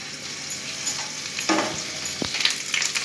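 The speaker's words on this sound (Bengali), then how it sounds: "বেটে এর মধ্যে এবার একটুখানি নেড়ে ভেজে নিয়ে তারপরে পেঁয়াজগুলো দেব।" Ginger and garlic paste fries in a pan, giving a steady sizzle with brief louder bursts as it is stirred, close and alone without talk.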